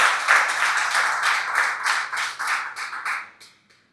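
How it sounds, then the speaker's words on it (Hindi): Audience applause at an event, dense and fairly loud at first, then thinning into scattered claps and fading out over about four seconds with no talk. "एक बार जोर से तालियां बजा के पुलक देशपांडे जी।"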